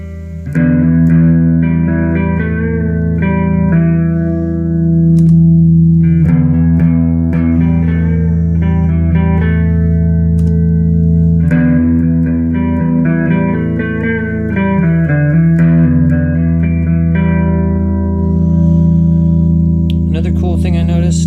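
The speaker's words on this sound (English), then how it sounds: "Turn the grit all the way down, then you're getting the filter with a little bit of dry, and it would sound like this." Electric guitar through a Strymon Timeline pedal with the grit turned fully down, a filtered tone blended with some dry signal, loud, sustained chords and melodic lines with echoing repeats, played alone without talk.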